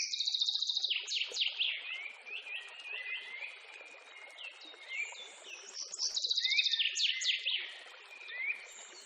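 Small parakeet chirping and tweeting in rapid, bright, repeated bursts, fairly close and continuous, with busy overlapping calls and no talking.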